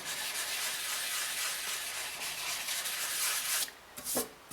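Steady close scratchy rubbing of sanding body filler on a drill press belt cover, a continuous hiss that breaks into a few short strokes near the end.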